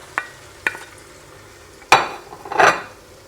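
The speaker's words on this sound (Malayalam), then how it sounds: "നമ്മൾ നന്നായിട്ട് ഇളക്കി കൊടുത്ത് ഉപ്പും ഇട്ട് എടുക്കാം" Lemon pickle being stirred in a pan with glacé cherries and salt, giving a few sharp spoon-on-pan clinks followed by louder scraping and rustling stirs near the end, with no voices.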